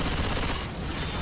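Sustained gunfire in the zombie shooter Left 4 Dead 2, a dense, steady roar of overlapping shots with little gap between them, loud and close, with no talking over it.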